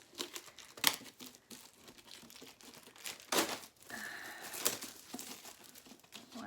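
An Owlcrate subscription box holding the book Lore by Alexandra Bracken is unwrapped, with crinkling paper and plastic and short tearing bursts, close and moderately quiet, with no talking.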